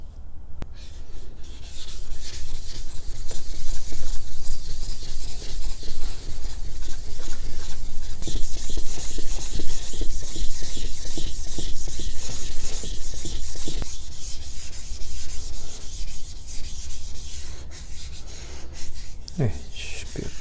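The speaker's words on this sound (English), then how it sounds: "I'll quickly resurface the finishing stone with the 400 diamond." A finishing stone for sharpening a plane blade is resurfaced on a 400-grit diamond plate, producing a steady, close, continuous gritty rubbing and scraping that runs almost unbroken for the whole stretch.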